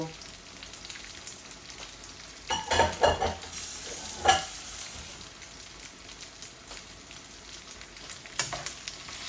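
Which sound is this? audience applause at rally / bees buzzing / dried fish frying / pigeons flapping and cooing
dried fish frying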